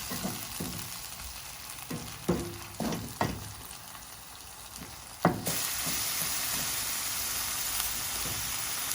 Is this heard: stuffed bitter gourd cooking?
yes